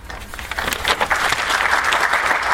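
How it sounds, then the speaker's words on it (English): An audience at an evening unity gala applauds loudly and close, a dense burst of clapping that builds within a second and holds steady to the end. "Oh yeah, come on, I love applause."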